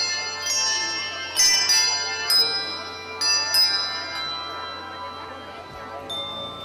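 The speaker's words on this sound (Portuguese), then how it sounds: "O conjunto, que é considerado a maior orquestra de sinos do país, interpretou famosas canções de Natal" A handbell orchestra rings out a bright Christmas melody, several clear strikes sounding in turn and sustaining with shimmering overtones, played as an ensemble tune.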